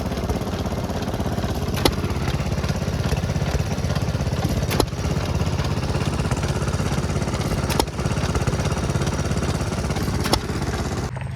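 A hit-and-miss engine at a tractor and engine show chugs steadily, with a sharp bang firing every few seconds over the continuous putter, loud and close.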